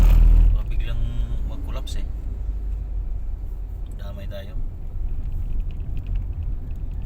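Heavy trucks rush past on a roadside, a continuous low rumble swelling as vehicles go by, with a person talking over the traffic noise.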